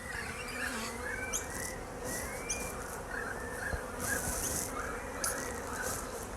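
Honey bees buzz inside an open beehive, a dense and constant drone of many wings at low volume, with a few individual bees whining past up close.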